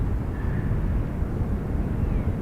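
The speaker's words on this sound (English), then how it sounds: "DL 115 off to Minneapolis, 767-300." Delta Boeing 767-300 taking off from runway 28 at Dublin Airport, a steady loud low jet roar with broadband rumble and wind noise, continuous throughout without talk.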